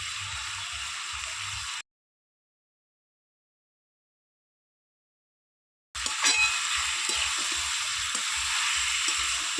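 Tomatoes frying in a pan with salt, cumin and turmeric for a raw tomato curry with lata fish, a steady close sizzle broken by a silent gap of a few seconds midway.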